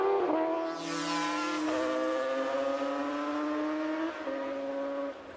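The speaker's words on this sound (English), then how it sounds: "Number 27 is Komu on the Aprilia. And Moravara on the Yamaha on bike 363" Racing motorcycles, including an Aprilia and a Yamaha, blast past on the Imatra road race circuit, their high-revving engines rising and falling in pitch as several bikes sweep by in quick succession, loud and fairly close.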